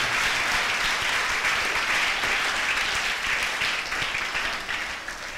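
Sustained applause from a large audience at a Christ the King feast golden jubilee program in Thadipatri, a dense, steady wash of clapping with no voices that fades slightly near the end.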